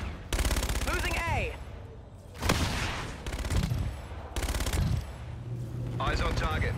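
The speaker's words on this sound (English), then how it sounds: "Why is your warden shooting at me?" Bursts of automatic gunfire from a Warden in Call of Duty: Infinite Warfare multiplayer, loud and repeated in several rapid volleys with brief gaps between them, mixed with game sounds.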